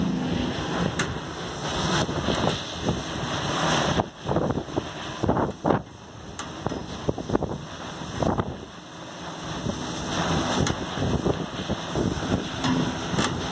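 A small wind turbine mounted on a pole spins hard in 30 to 40 mph wind, with loud, steady gusting roar and a thin high whine running underneath throughout, and no talking.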